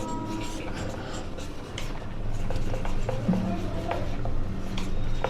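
Chalk or marker scratches across a board in short irregular strokes while a math proof is worked out, with a voice talking over the writing.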